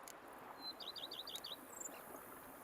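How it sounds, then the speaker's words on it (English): A bird chirps a quick series of five or six high, bright notes over faint, quiet background ambience, followed by one thin whistled note. "Bees buzzing, birds chirping."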